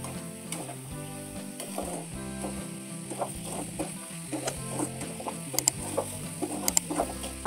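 Sugar is stirred into khoya in a pan on the stove, giving soft, repeated scraping and stirring strokes with a faint sizzle and a few sharper clinks of the spoon against the pan, close and quiet.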